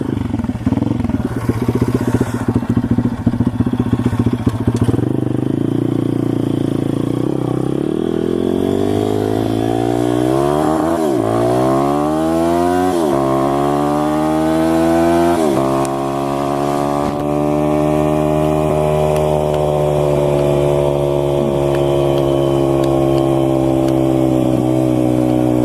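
An SSR 160 pit bike engine under way, its note climbing steadily through the gears with rising revs and a few shifts, loud and close, ending in a sustained high drone.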